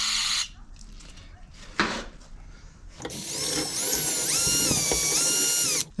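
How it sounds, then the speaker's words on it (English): A power drill fitted with a bit runs inside a Mazda CX-5 rear brake caliper, cleaning out gunk, whirring loudly and steadily for several seconds after a few short bursts and clanks. "So we got a drill bit roughly the same size, and now we're going to clean the inside of it out."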